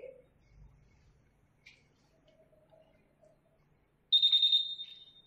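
A flame photometer sounds a tonal electronic beep near the end after distilled-water aspiration, loud and clear against a quiet lab background with faint earlier clicks; it may be a single prolonged beep rather than two separate ones.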